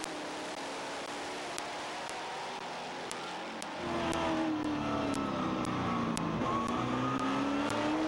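Race cars roaring around the Midvale Speedway oval, engines droning steadily at mid distance, then swelling louder and rising in pitch as the pack comes closer, with no talking.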